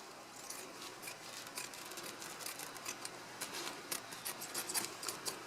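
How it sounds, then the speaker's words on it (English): Scissors snip away excess embroidery stabilizer after machine stitching, a run of quiet, crisp cuts repeating at an irregular rhythm, close but faint, with no voices. "now you can cut away all that excess stabilizer"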